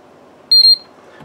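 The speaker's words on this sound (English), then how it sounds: "10 seconds we'll get two beeps" Two quick high-pitched electronic beeps from an Arduino power-control buzzer sound back to back, clear and loud against a quiet background hum.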